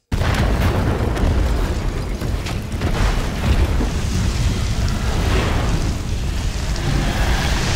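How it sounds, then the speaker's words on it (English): A volcano erupts in the disaster film Pompeii: a loud, continuous roaring rumble with deep booming bursts that fills the whole stretch without letting up, and no voices. "But the volcano decides now is the time to erupt."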